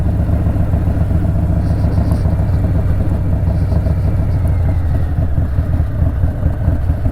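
Steady, loud engine drone of a Stage II Harley-Davidson Softail Street Bob with FXR fairing riding on a highway, with a continuous low rumble and no pauses throughout.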